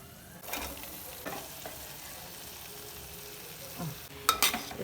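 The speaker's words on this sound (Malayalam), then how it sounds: "ഞാൻ ഫുൾ മാങ്ങ ഇപ്പോൾ ചട്ടിയിലേക്ക് ഇട്ടിട്ടുണ്ട് ഇനി നല്ലോണം ഒന്ന് മിക്സ് ആക്കുക" Mango pieces being stirred through masala in a pan, a low frying hiss under a few spaced scrapes of the spoon, fairly quiet and close, with a sharper clatter of strokes near the end.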